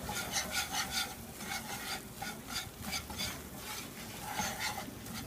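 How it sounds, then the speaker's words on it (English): A spoon stirs and scrapes a drying flour-and-butter roux around a pot for homemade potato soup, making a quiet, rhythmic rasping with repeated strokes across the bottom and no talking. "just stir and scrape"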